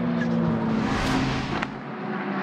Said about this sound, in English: Sebastian Buemi across the line, ahead of the #1 Porsche and the #7 Toyota